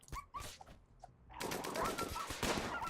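Firearms gunfire from a RimWorld colony battle: a few sharp separated shots at first, then a dense stretch of rapid overlapping bursts, fairly faint overall with no talk.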